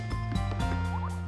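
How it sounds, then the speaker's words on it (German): Water drips from a tree in the video game Paper Mario: Color Splash, with soft plinking drops and a short rising chirp over steady, bright game music. "Aber erstmal lassen wir den Baum hier ein bisschen tropfen."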